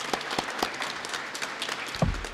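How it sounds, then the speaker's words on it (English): Scattered applause from an audience for Owens at a Kentucky public education kickoff event, light and somewhat sparse with individual claps standing out, fairly even in level and heard alone. "we didn't give Owens another round of applause for his work making today happen"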